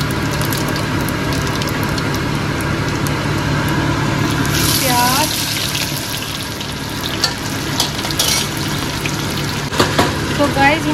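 Onions frying in hot oil with cumin seeds, a continuous close sizzle with occasional stirring clatter, a voice talking over it at times.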